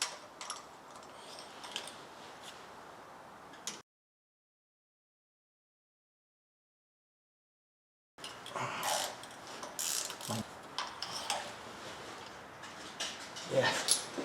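A ratchet wrench clicks while spark plugs are loosened from a 2015 Chrysler Town and Country with a misfire, quick metallic ratcheting bursts around a long silent gap, close and fairly quiet.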